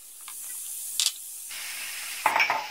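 Spinach and corn tipped into a pan of garlic and all-purpose flour browned lightly, giving a soft sizzling hiss with a brief clatter of added food, then a louder burst of sizzle and stirring near the end.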